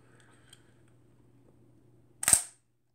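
A single crisp mechanical shutter release of a 1959 Krasnogorsk Zenit C film camera fitted with an Industar 50mm f/3.5 lens, close and isolated in a quiet room after a faint low hum.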